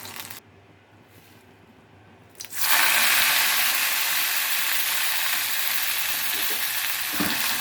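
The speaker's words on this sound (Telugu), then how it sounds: "ఈ పచ్చిమిర్చి కూడా వేగిపోయినాయి, తీసేసి ఇదే నూనెలో మళ్ళీ కొత్తిమీర వేసుకున్నాం." Coriander leaves dropped into hot oil in a pan burst into a loud, steady sizzle after a quiet opening, with a few clinks before the frying takes over and holds.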